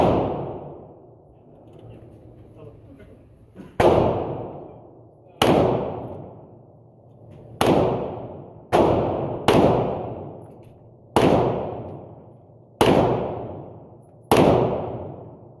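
Stock unsuppressed 9mm Canik pistol fired outdoors, eight sharp, loud cracks spaced about one to two seconds apart, each trailing into a short echo, after a quiet stretch with faint talk.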